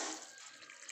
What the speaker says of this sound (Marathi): एक तांबे पाणी टाकायचं त्याच्यामध्ये